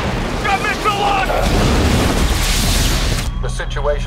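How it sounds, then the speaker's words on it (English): An explosion in the White House Down action movie trailer (2013): a heavy booming blast with rumbling debris fills most of the clip, loud and close, and voices are briefly heard before it. "We are also getting unconfirmed reports of explosions."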